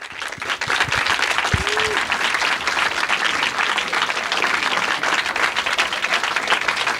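An audience in a screening hall applauds to welcome the director of a documentary film, dense sustained clapping throughout with a brief whistle early on.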